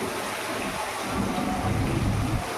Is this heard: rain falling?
yes